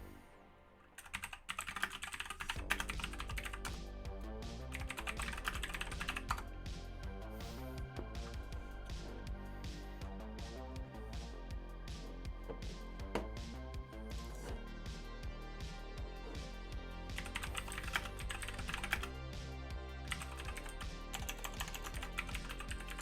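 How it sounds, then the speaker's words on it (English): Rapid, uneven typing on a computer keyboard, close and fairly quiet, with dense clattering keystrokes that continue through the whole stretch in irregular bursts and no talking. "and type in NearBeach"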